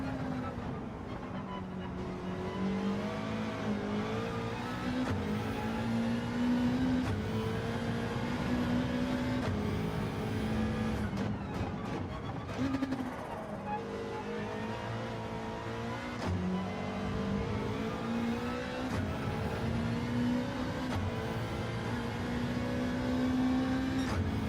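Continuous racing car engine from a driving video game, with steady held revs and shifting pitch that rises and drops through gear changes, loud and close throughout with no talking.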